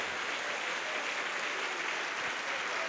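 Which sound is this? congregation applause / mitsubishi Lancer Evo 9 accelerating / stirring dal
congregation applause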